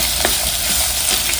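Chopped onion and green chillies frying in a pan for a village-style kitchen, a loud, continuous close sizzle with a few scrape-like stirring accents.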